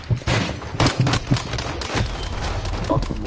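Rapid bursts of gunfire in an online shooter video game, sharp repeated cracks clustered in the first second and near the end, mixed with players talking excitedly over the shots.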